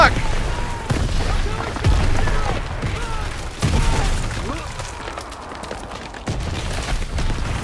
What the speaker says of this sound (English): Artillery! Run!